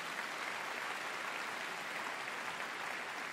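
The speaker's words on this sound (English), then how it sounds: "Please give her a round of applause." An audience at a Crufts 2020 demonstration applauds a cancer-sniffing detection dog, a dense, steady wash of clapping that holds evenly from start to finish.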